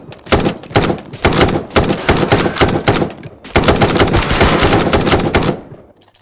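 Bursts of rapid automatic gunfire ring out at a shooting range in the tactical shooter Ground Branch, in several loud, close, sustained volleys separated by brief pauses.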